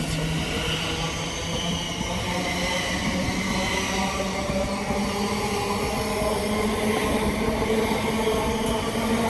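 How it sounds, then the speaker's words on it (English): A Class 700 Thameslink train departs West Hampstead station on a Gravesend to Luton service, giving a steady rolling rumble with rising electric whine and faint wheel noise throughout, with no voices. "Departing now is 700 with its service from Gravesend to Luton."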